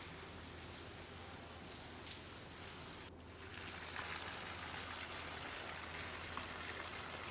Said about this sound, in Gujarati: જેતપુર શહેરમાં ધોધમાર વરસાદ પડી રહ્યો છે